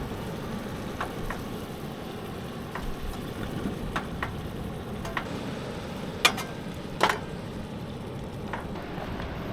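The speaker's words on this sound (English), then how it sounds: "It's sizzling." Emu meat frying outdoors on a beach, a steady broadband sizzle across the whole stretch with a few sharp ticks and pops standing out near the middle, no talking.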